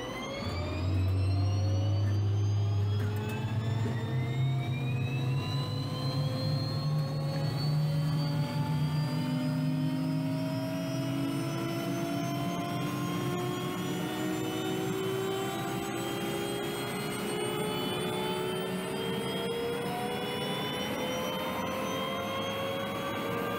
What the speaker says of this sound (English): Turbine engines have a very distinct whine to them, especially upon startup.